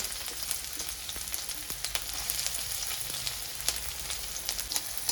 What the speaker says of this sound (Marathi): आता आपण एक बारीक चिरलेला कांदा घेतला आहे तो थोडासा परतून घ्यायचा आहे तेलामध्ये